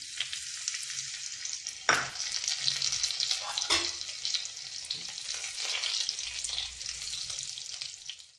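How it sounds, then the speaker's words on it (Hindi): Cumin seeds and finely chopped green chili crackle and sizzle loudly in hot ghee, a dense continuous frying hiss with a few sharper spits and stirring scrapes, no voices. "घी अच्छे से गर्म हो चुकी है और अब मैं इसमें 1 छोटा चम्मच जीरा डाल दे रही हूँ"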